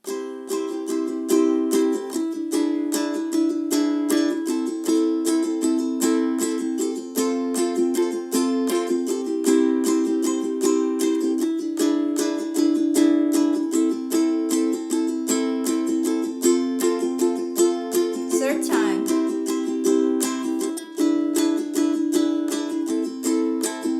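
A ukulele strums the chord progression from the instrumental section of a song, steady rhythmic strokes ringing bright and close, played alone.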